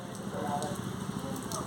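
Rain falls steadily outdoors during a barefoot run, a soft, continuous hiss with faint scattered drop patter throughout.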